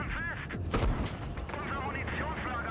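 A single heavy tank cannon shot rings out in World of Tanks Blitz, a sharp boom near the middle of the clip over continuous in-game battle noise.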